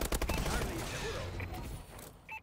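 Rapid bursts of gunfire in the video game Advanced Warfare, a dense crackling fusillade at close range, continuous through most of the stretch and fading toward the end, with faint talk mixed in.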